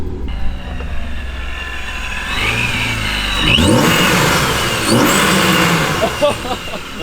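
Supercharged BMW engine revving hard through its exhaust, with a rising whine and two strong surges of throttle over a rumbling idle, loud and close, with voices alongside.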